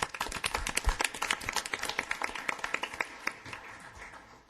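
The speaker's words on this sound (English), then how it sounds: "Let's do a round of applause" Council meeting members giving a round of applause, a dense patter of many hands clapping at moderate distance, tapering off toward the end.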